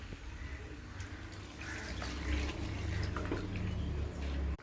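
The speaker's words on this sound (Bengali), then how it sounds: "আমি একটু পরিমাণ মতো জল দেবো।" Water poured into a pot of browned mutton curry, a steady faint splashing and trickling that grows a little louder midway and runs for several seconds before stopping abruptly.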